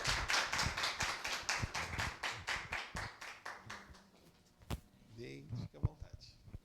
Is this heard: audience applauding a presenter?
yes